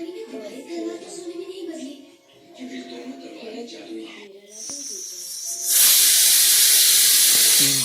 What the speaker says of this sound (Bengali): দেওয়ার পর 3টে সিটি হওয়ার পর প্রেসার কুকারটাকে খুলবেন